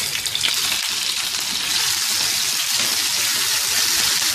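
Goat mutton chops, about 400 grams, fry with garlic ginger paste on a hot tawa, giving a loud, close, continuous sizzle with faint crackles and stirring, and no voices.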